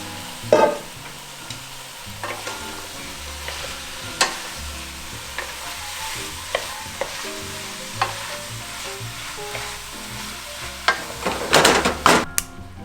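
Broccoli and mushrooms sizzling in a pan for a vegan stir fry with Japanese cabbage and tofu, a steady close hiss broken by sharp taps of a utensil against the pan.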